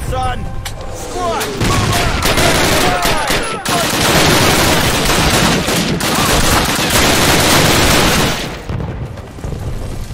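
Heavy battle gunfire in the 2003 Call of Duty game, dense overlapping rifle and machine-gun shots with booming blasts, loud and continuous for several seconds, with shouted voices mixed in before fading.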